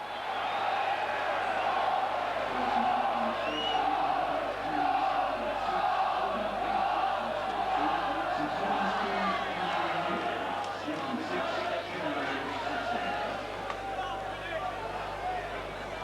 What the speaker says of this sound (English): You'll hear the roar from the Bradford crowd.